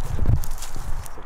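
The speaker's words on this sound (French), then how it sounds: "Il y a un cheval." Horse hooves clip-clop outdoors near an abandoned luxury hotel, a few dull, uneven thuds over steady background noise, fairly close and moderately loud.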